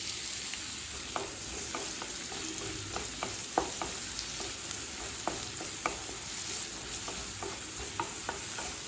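Onions sauté in oil in a kadai with a steady, bright sizzle, while frequent light clicks and taps of a spoon stirring the pan recur throughout.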